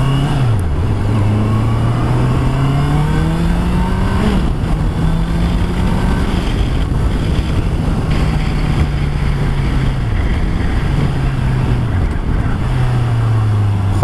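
A Honda CBR650R motorcycle ridden at speed, its engine note rising through the gears with drops at each shift, steady and loud under heavy wind rush on the helmet microphone.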